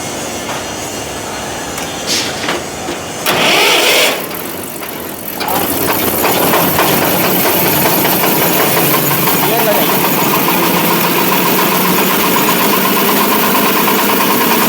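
A tractor engine turns over and catches, then settles into a loud, steady idle that runs continuously to the end; people talk over it at the start.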